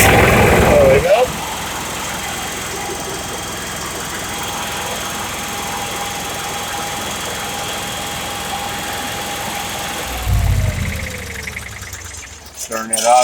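A 2019 Bounder 33C motorhome engine idles in a steady, even drone with a faint hum, then shuts off, winding down with a falling tone near the end.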